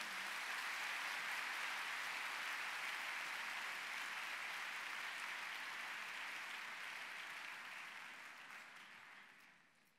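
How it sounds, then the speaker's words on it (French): Sustained applause from an audience at a formal French bar association ceremony, welcoming representatives of the bâtonniers; dense, steady clapping that fades out toward the end. "Vous pouvez les applaudir"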